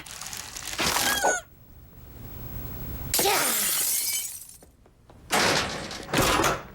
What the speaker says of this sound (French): Le verre cassé